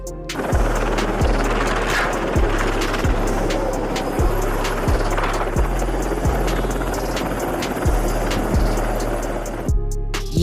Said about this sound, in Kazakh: кемедегі ұшу алаңындағы тікұшақ әуеге көтерілмек болды